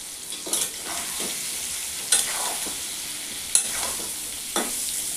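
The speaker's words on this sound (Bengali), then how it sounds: "এবার আমি নাড়াচাড়া করব।" Raw green mango pickle with halved fresh green chilies and a spoonful of chili powder being stirred in a bowl, giving soft scraping and rustling strokes with a few sharper clinks, close and steady, with no talk.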